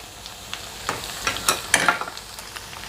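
Anchovies (ikan teri) frying in hot oil, a steady low sizzle with scattered crackles and pops building in the middle, close and alone with no talking.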